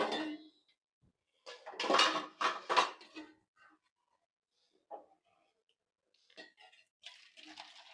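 A cooking pot of mung dal with beans and sweet potato is lifted off the stove, giving a few close metallic clanks and scrapes separated by quiet pauses.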